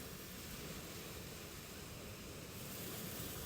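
Gentle sea waves washing onto a beach, a soft continuous hiss of surf and breaking water, steady and even throughout with no voices.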